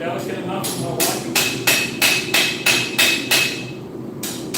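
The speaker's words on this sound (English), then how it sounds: "that bloody big hammer, the forearm destroyer" A big, heavy blacksmith's hammer strikes steel in an evenly spaced series of about ten sharp, ringing blows, loud and close, each with a bright metallic ring and short decay.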